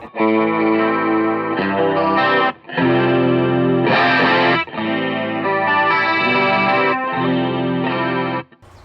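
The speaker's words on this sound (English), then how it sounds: "Typical kind of chorusy sound." Electric guitar chords with a shimmering, wavering chorus effect, strummed loudly in several sustained phrases separated by brief gaps, with no talking.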